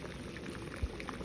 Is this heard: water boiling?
yes